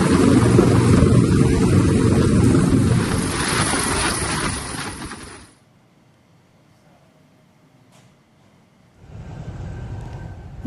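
An Indonesian Air Force military helicopter delivering flood aid in Bener Meriah, Aceh, roars loudly and close with dense rotor and engine noise, cuts out abruptly midway, then returns at a lower level.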